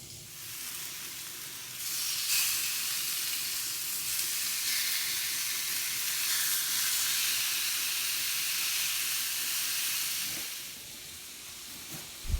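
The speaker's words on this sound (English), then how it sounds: "I'm actually using my indoor cast iron grill pan for this, and I'm just going to grill this steak up" Tuna steak sizzling in an indoor cast iron grill pan, a steady, bright hiss of frying close up that swells and holds for several seconds before easing off, with no talking.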